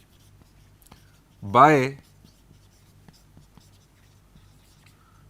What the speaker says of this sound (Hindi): हम यहां लिखेंगे